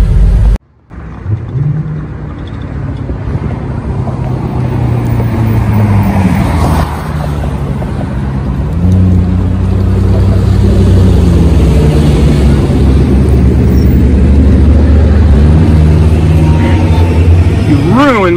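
A 1985 Toyota pickup truck (X-Cab) driving along a road, its engine a steady, loud low rumble mixed with road and wind noise that holds throughout after a brief cut near the start.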